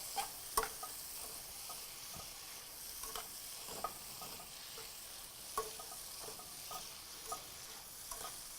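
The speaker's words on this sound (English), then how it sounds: "That way they will saute and not caramelize" Salted vegetables sautéing quietly in a pan, a soft continuous sizzle with scattered faint ticks and scrapes from stirring, no voices.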